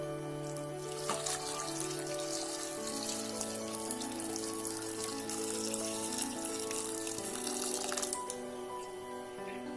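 Water poured into a pot of chickpea curry with onion, shallots, garlic, ginger, turmeric and salt: a soft steady trickle and splash, fairly faint, with a faint hum underneath.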